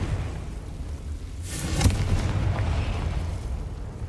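A Confringo spell explosion in Hogwarts Legacy: a sudden burst with a sharp crack and a low rumbling boom that lingers and fades over a few seconds, fairly loud against steady game background.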